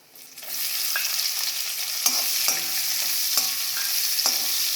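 Finely chopped onions sizzle steadily in a hot pan as they brown, a constant hiss with occasional soft scraping stirs from a spatula.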